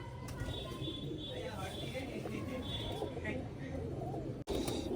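Domestic pigeons kept for sale, cooing in a loft, low throaty calls running steadily beneath someone talking nearby.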